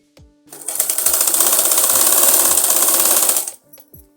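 An electric sewing machine stitches the sleeve of a girl's umbrella frock in one fast, steady burst of about three seconds, ramping up and stopping cleanly, with faint handling clicks before and after.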